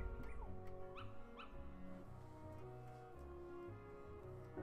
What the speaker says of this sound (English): Aw, little puppies.